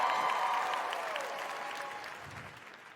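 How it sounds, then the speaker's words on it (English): Applause from a stand-up comedy audience, a dense crowd clapping that gradually fades over a few seconds, with no talk over it. "The idea of people applauding for that little monster."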